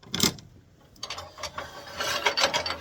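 A chuck key tightens a four-jaw chuck on a wood lathe, making close, scraping and clicking metal-on-metal ratchet sounds in short bursts. No one speaks.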